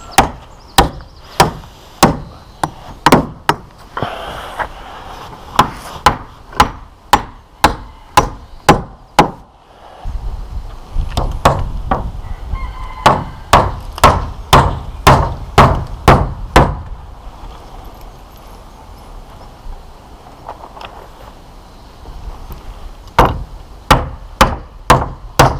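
Battens are hammered onto a timber roof frame over underlay. Sharp, loud hammer blows land in quick regular runs, separated by pauses and thuds of wood being handled nearby.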